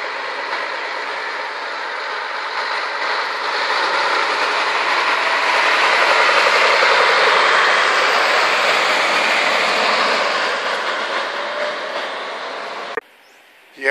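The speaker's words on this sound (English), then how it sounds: "Here it comes, a nice bright red fire engine." Bright red fire engine with yellow stripes rolls out of a town fire station onto a street, a steady broad engine rumble and road roar rising and holding for over ten seconds before cutting off.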